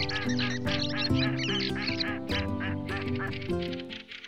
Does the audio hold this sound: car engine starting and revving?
no